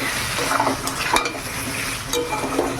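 Broiler chicken meat frying in its own released oil in a pan, a steady sizzle with scraping stirring strokes from a spoon, close and moderately loud, no voices.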